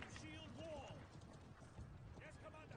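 Horse hooves clop steadily in the medieval siege game Conqueror's Blade, quiet and mixed with other game sounds and faint voices.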